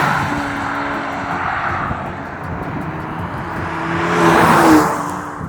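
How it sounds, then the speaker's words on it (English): A Maserati Grecale's 4-cylinder engine hums steadily with a buzzy exhaust note that swells louder and rises in pitch near the end, as if accelerating. "The exhaust note is really wholesome."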